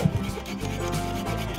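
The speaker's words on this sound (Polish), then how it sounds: "którzy brali udział w konkurencji cięcia piłą na czas" Silky hand saw cutting through wood during a timed sawing competition, a steady continuous rasping stroke close by with no speech.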